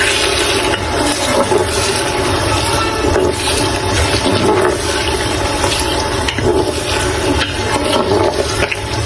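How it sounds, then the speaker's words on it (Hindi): Water pours steadily from a bowl into a pot of soaked rice for a biryani-style potato tahari, a loud continuous splashing rush with no pauses and no talking over it. "अब इसमें मैं डाल दूंगी एक बाउल पानी"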